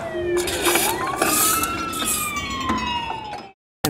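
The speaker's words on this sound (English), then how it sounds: "Siren." A wailing emergency siren rises and falls across a city street in Tijuana, loud and steady for several seconds before cutting off abruptly, with traffic rumble underneath.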